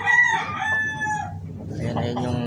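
A hybrid rooster crows once loudly and close by, a drawn-out call lasting about a second, followed by softer clucking and background noise.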